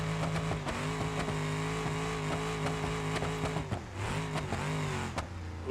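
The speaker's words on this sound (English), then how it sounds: "It's a Crown Vic. It's got a supercharger." A supercharged Crown Victoria revs hard in the BeamNG.Drive driving game, its engine note and supercharger whine rising and falling through several gear shifts, loud and continuous throughout.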